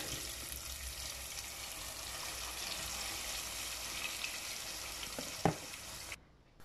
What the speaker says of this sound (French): Je continue à frire les pommes.